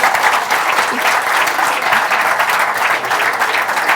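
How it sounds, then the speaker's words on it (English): A dense, steady round of applause fills an awards ceremony hall, many hands clapping together at an even level from start to finish. "a round of applause"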